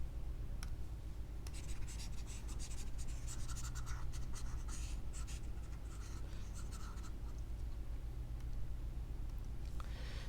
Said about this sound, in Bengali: এবার দেখো এটা আমি মুছে দিচ্ছি এই সাইডেরটা